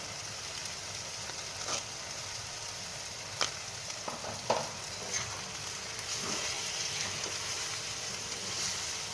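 Sabudana khichdi frying in a pan, with a soft continuous sizzle punctuated by a few scraping stirs and light clinks of the spoon against the pan, fairly quiet and close.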